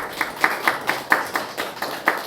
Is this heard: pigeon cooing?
no